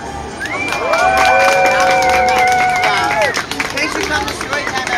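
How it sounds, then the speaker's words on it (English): A Disneyland Story Time audience of children and adults cheers and shouts loudly after a Peter Pan storytelling show, with some clapping mixed into the excited crowd noise. "clap for us as we bow"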